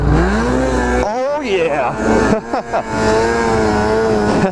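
Snowmobile engine droning steadily while riding a snowy trail after a snowstorm, loud and close with pitch shifts as throttle changes, briefly dipping mid-ride, with a voice exclaiming over it.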